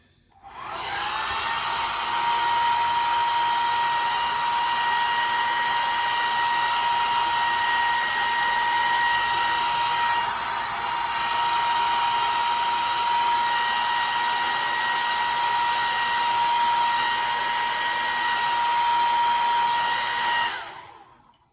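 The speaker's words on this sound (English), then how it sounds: "I use the Revlon blow dryer and I put it on the cool setting." A Revlon blow dryer on the cool setting runs loudly and steadily for about twenty seconds with a constant high whine, switching on at the start and off at the end.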